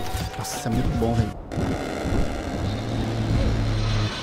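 Propeller airplane from a Roblox Call of Duty–style shooter droning steadily through the scene, a continuous engine hum with gunfire-like bursts and game sounds layered over it, mixed with a voice talking.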